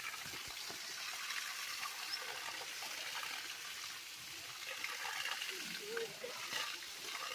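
Water from a village tank falls as a small waterfall, a steady rushing hiss at moderate distance that runs throughout, with faint voices talking underneath.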